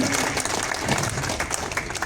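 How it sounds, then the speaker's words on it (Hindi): Applause from a crowd at a political gathering in Churu district, Rajasthan, welcoming a speaker, with dense steady clapping filling the short stretch. "आपका जोरदार तालियों की गड़गड़ाहट के साथ स्वागत"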